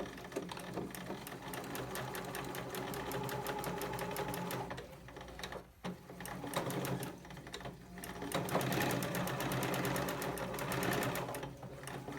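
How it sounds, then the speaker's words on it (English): A sewing machine stitches a French seam at a quarter inch from the inside of lightweight fabric, a close rapid mechanical chatter that runs, dips briefly twice, then resumes at full speed. "from the inside, sew the seam again at 1/4 of an inch"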